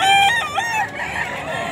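A hennie rooster crows once up close, a loud strained call lasting under a second followed by faint yard background.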